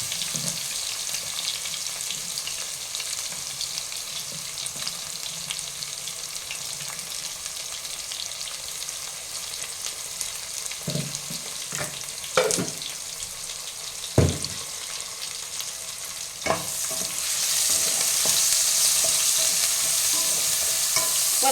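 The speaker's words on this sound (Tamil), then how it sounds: "பூண்டு இஞ்சி மிக்சி ஜாரில் போட்டு எடுத்துட்டேன் வெங்காயம் பாதி வதங்கி வந்திருக்குது அதில் போட்டுறேன்" Onions frying in a pan with ground garlic and ginger paste stirred in, a steady close sizzle with a few sharp scraping stir knocks, the frying hiss growing louder toward the end.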